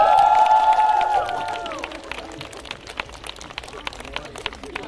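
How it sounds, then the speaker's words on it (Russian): Concert audience at a show in Gorky Park applauding and cheering, a broad crowd wash under a fading sustained chord, with scattered claps continuing as the music dies away. "Борис, аплодисменты."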